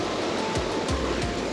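Creek water rushing over rocks at a hiking trail crossing on Cow Creek in Rocky Mountain National Park, a steady loud broadband wash with a few brief low thumps, no voices.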